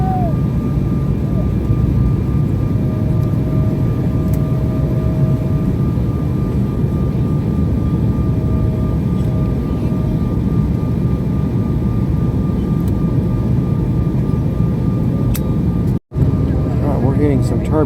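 Steady broadband roar inside an airliner cabin during descent into Wichita, Kansas, amid turbulence, a continuous loud engine and airflow rumble with a faint tonal hum and brief chimes or clicks near the end.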